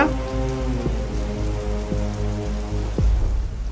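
Steady rain pours down in a village setting, a dense, continuous hiss of drops striking surfaces that stays even and fairly loud for a few seconds, with no voices.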